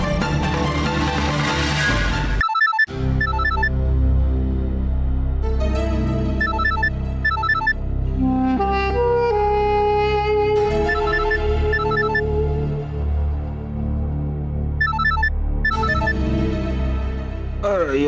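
A melodic electronic ringtone plays loudly and repeats over and over, with a brief gap near the start and no talking.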